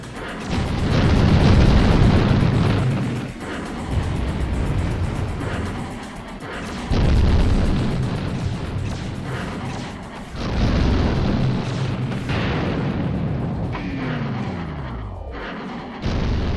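Repeated booming explosions of units being destroyed in a real-time strategy video game, heavy low rumbling blasts in three or four waves with brief lulls between, loud and dense throughout.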